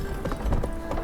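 Horse hooves clip-clop briefly in The Witcher video game, a few quick hoof beats over a soft music and ambient background.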